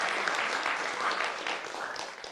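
Broadband applause from a studio audience on an Indonesian TV talk show, steady and dense throughout, moderately loud, with no clear voice over it.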